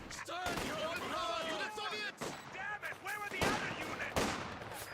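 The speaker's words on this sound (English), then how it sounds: "we got the Kubelwagen firing against the riflemen" Bursts of small-arms fire from a Kubelwagen in the Company of Heroes 2 strategy game, repeated sharp cracks over a busy battle mix, with a voice talking over the action.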